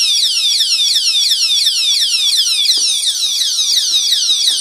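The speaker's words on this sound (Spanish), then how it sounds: "Ahora mismo está la alarma puesta." A motorcycle disc lock alarm shrieks loudly and continuously up close, a rapid repeating series of piercing sweeping electronic tones with no pause.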